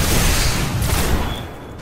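Dense, loud in-game gunfire from Destiny, a continuous barrage of shots and booms filling the moment without pause.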